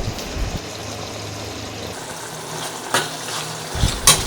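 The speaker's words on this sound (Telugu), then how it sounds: "ఇప్పుడు మంచిగా కలిపేసుకోవాలండి." Mutton curry being stirred in a pan after adding chili powder and salt to ginger-garlic, a steady low sizzle with a few soft scrapes and clinks of the spoon near the end.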